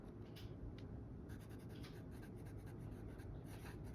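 A fountain pen nib writes on paper, making a very faint, dry scratching with short strokes and brief pauses.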